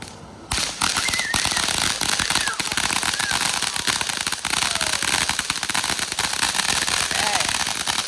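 Home fireworks set off by kids on the Fourth of July, a dense run of crackling pops and bangs that starts abruptly and keeps going loud and close, with voices faintly in the mix.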